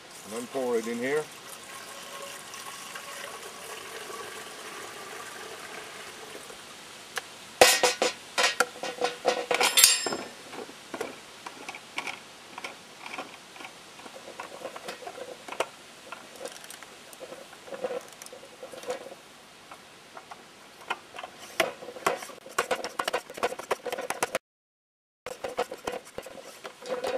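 Baking soda dissolved in water being poured into a container in a garden, a close clinking, splashing pour with irregular patter and clatter, while someone talks briefly.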